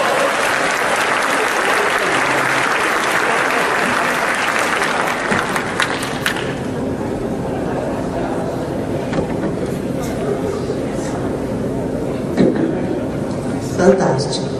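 Lively audience applause bursts out loud at first, then fades into lighter scattered clapping and crowd murmur with a few laughs.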